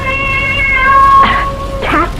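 A cat meows in an old-time radio drama, a long drawn tonal cry followed by two shorter meows, close and loud against a quiet background.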